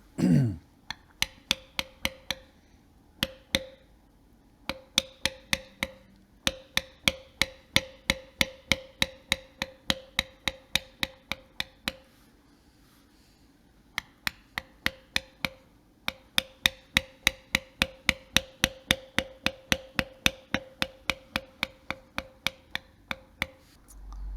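Sharp mallet strikes on a beveling tool pressed into leather for a floral belt carving, tapping in quick even runs broken by short pauses, close and crisp with no voice.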